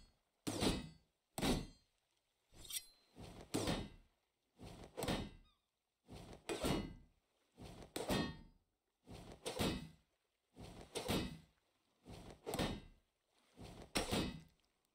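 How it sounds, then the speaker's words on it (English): In the survival game Sunkenland, a player hacks through a door with a steady series of heavy, evenly spaced thunks, about a dozen blows in a row. "Okay, says hack through this door."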